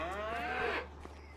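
Cattle mooing in a cow barn in Farming Simulator 25, a single loud, drawn-out moo lasting under a second, close by, followed by quiet background.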